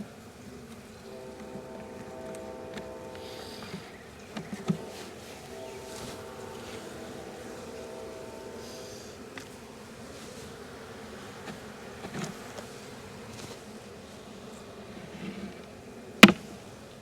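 Honey bees buzzing in an open hive with festooning workers and brood frames, a soft steady hum close by, broken by occasional handling knocks and one sharp click near the end.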